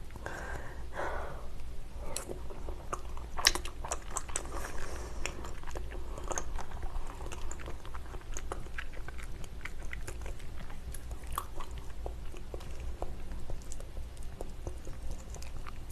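Someone eats salmon sashimi with wasabi close to the microphone, soft wet chewing and occasional sharp bites recurring steadily, with light breaths between mouthfuls and no talking.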